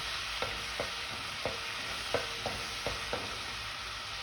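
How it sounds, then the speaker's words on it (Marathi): Ginger, garlic, chili and coriander paste sautéing in hot oil, a steady sizzle with a spoon clacking against the pan about every half second, close and without talk. "आता ही पेस्ट आपल्याला तेलावर छान अशी परतवून घ्यायची आहे"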